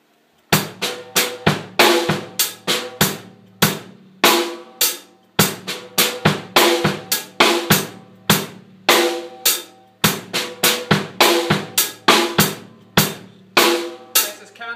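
A drum kit plays a steady groove of bass drum kicks, loud snare cracks and soft ghost notes in a tight repeating pattern, close and alone with no talking.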